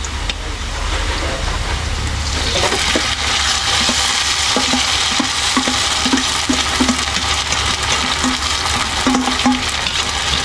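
Corn kernels fry in a pan with sautéed garlic and onion, a loud continuous sizzle with intermittent stirring scrapes and clicks.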